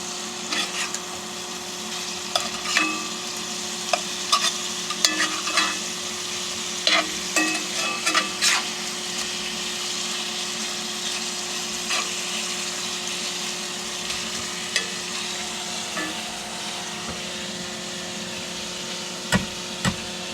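Sausage frying on a camp stove during solo truck camping at a lake state park, a steady sizzle with scattered crackles, pops and utensil clicks running throughout at moderate loudness, without talk.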